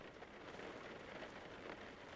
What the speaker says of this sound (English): there is some rain in this session, so watch out for slippery curves and remember to brake earlier